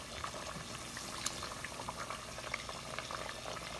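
Sweet potatoes cooking with sugar in a pan for fried caramelized kamote que, giving a soft, steady bubbling sizzle with scattered small pops, close and continuous, with no talking.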